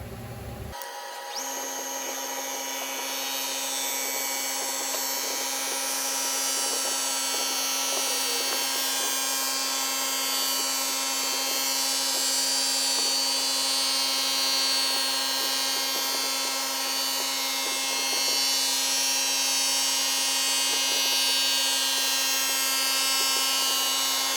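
A CNC mill takes a very light, slow finishing pass across LS3 cylinder heads, producing a steady, close machine whine with constant tonal hum and faint intermittent cutting chatter, sustained without interruption.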